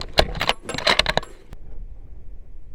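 Rifle shots from a Fierce CT Rival firing 212 grain ELD-X ammunition during group testing: a burst of sharp, loud cracks in the first half second, then a quick ringing tail that fades into quiet.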